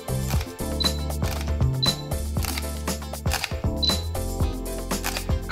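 A Fujifilm X-T3 camera shutter clicks several times at uneven intervals, close and crisp, over steady background music.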